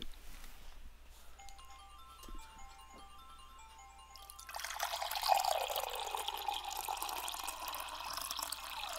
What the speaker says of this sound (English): I need to pour myself more water!